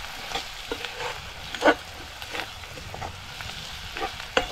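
Turmeric, garam masala and homemade red masala sizzle and fry in a pan for a Konkan-style bombil and potato dish, with a steady crackle and several sharp spoon scrapes and clinks as the mix is stirred.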